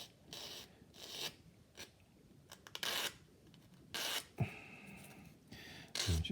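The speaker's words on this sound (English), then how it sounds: "gently let the sanding stick do all the work." Short bursts of dry rasping friction, several separate strokes with pauses between, close up and fairly quiet, a sanding stick removing flash from a small plastic part of a 1/32 Revell Heinkel He111 scale model.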